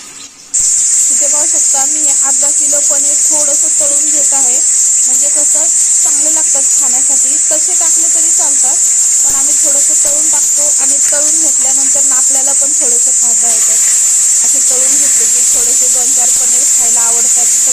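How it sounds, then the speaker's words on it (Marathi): Paneer pieces fry in hot oil with a loud, steady sizzling hiss throughout, while someone talks over it in Marathi. "आता एक पनीर तळून घेऊन घ्या"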